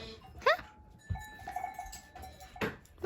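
Goats bleat on a farm in cold, snowy weather, with a cowbell clanking alongside; a couple of sharp bleats stand out against steady background noise.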